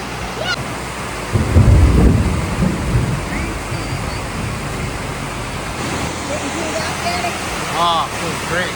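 Thunder from a nearby lightning strike rolls as a deep, loud rumble early on, then fades into steady wind and outdoor ambience at a rural Florida Panhandle property on a summer evening, with faint birdsong.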